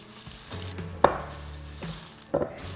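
Dry granola ingredients, including coconut and pumpkin seeds, are mixed in a bowl, with soft rustling strokes and two sharper knocks of the utensil against the bowl, close and quiet, with no talking.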